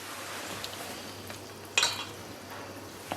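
Seasoned mutton being stirred with Sichuan pepper oil, sesame oil and homemade chili oil: a faint, soft scraping mix with a single louder clink near the middle, over a low steady hum.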